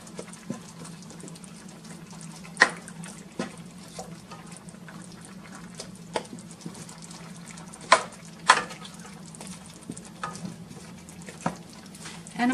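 Artichokes stirred in a cooking pot: soft scraping and occasional sharp clinks of a spoon against the pot, irregular and fairly quiet over a low steady hum.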